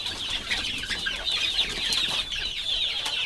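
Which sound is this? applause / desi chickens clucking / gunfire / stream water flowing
desi chickens clucking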